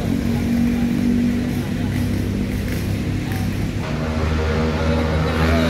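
Vehicles race illegally on a wide, straight road: a steady roar of engines with a sustained drone that rises and shifts as they pass, while someone talks over it.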